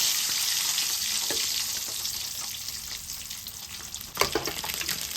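Boiled eggs fry in oil with turmeric, a close, even sizzle with scattered crackles and a sharper burst of spitting toward the end, and nobody speaks.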